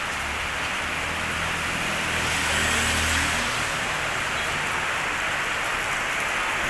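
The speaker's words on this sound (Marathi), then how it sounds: "आता पुन्हा पाऊस सुरू झाला आहे" Monsoon rain pours over a city in Kerala, a loud, dense hiss of heavy rainfall with a passing car engine rumbling low beneath it midway.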